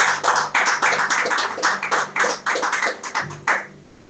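A church congregation claps together in dense, steady applause at a worship service for about three and a half seconds, loud and close, then it trails off quickly into quiet.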